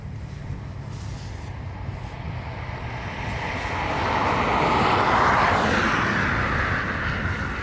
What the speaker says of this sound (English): So this is our ATR to Glasgow.